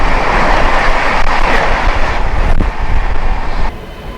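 Mumbai CSMT–Howrah Duronto Express rushing past near Kharagpur, a loud, continuous roar of rail cars with wind buffeting throughout, easing slightly near the end.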